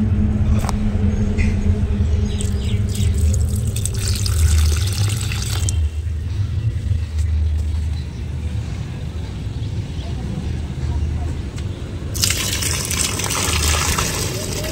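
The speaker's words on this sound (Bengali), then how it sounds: "তাই জন্যে আর একটু জল দিয়েই যাচ্ছি সকালবেলা।" Water pours onto potted garden plants in the morning, making a continuous rushing, splashing gush that swells into a brighter hiss near the end, close and fairly loud.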